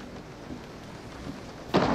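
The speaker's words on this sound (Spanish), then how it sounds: "¡Se pone a llover!" Rain begins in Resident Evil 7 VR, a steady soft hiss of falling rain with a low rumble, then a sudden louder burst near the end; no talking.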